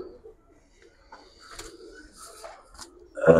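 Soft cooing from a flock of giribaz high-flyer pigeons, scattered low calls and faint rustles close by, ending with a louder burst of noise.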